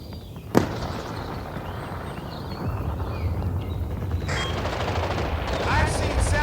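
Video game gunfire: a single sharp shot near the start, then dense, continuous rattling fire and battle noise that builds steadily.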